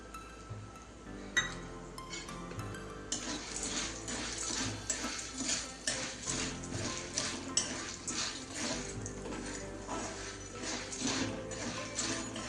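Salted corn kernels for popcorn stirred in a hot kadhai, giving a steady rattling and clinking of kernels against the metal pan, close and continuous, with no talk.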